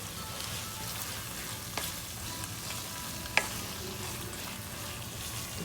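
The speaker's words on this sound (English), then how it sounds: "So I'm going to add the rice now. Make sure you mix it all nicely." Cooked rice for tomato rice gets mixed into pasta sauce in a pan, with a steady frying hiss under scattered spoon scrapes and one sharper clink, close and without talk.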